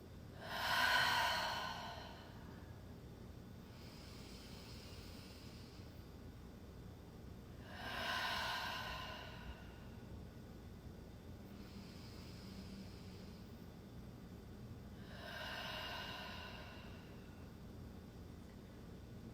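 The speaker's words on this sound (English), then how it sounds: "Closing our practice together with 3 breaths. Inhale." Three slow, deep breaths spaced evenly apart at the close of a yoga practice. Each audible inhale-exhale swells and fades over a soft background hiss, with long quiet gaps between them and no talking.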